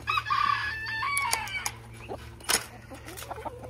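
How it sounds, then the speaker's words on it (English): A rooster crows amid clucking chickens, with a steady low hum underneath and a few sharp knocks. "Yes, I still have a couple of chickens."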